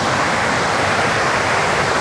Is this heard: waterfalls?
yes